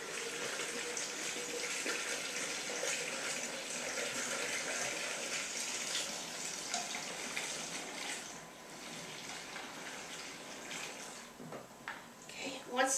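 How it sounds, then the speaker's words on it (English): A sink faucet fills a gallon container, giving a steady gushing stream that fades somewhat toward the end, close and fairly loud. "So I'm just going to come over here to the sink and fill this up."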